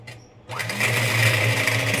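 An electric mixer kneading milk bun dough at low speed starts up after a brief quiet moment and settles into a steady, close motor whir that holds to the end.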